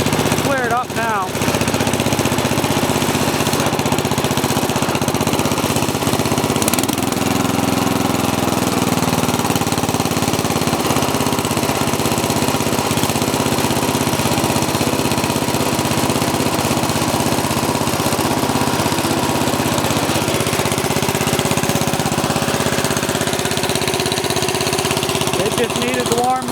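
A new tractor engine idles and runs steadily while warming up, a loud continuous mechanical chug with a slight knock that holds unbroken for the whole stretch, with some talk over it.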